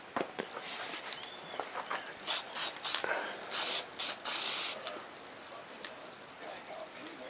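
Spray paint bursts onto black foam board for a model F-117 stealth fighter, a series of short hissing sprays in quick succession, fairly close and moderately loud, with a few faint ticks between them.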